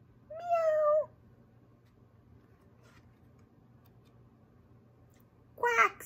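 A cat meows twice, a short mew at the start and another after a long quiet pause, close and clear over faint background hum.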